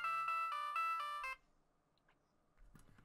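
A phone ringtone plays a short repeating melodic chime for about a second, fairly quiet, then stops, followed by faint rustling and a soft noise near the end.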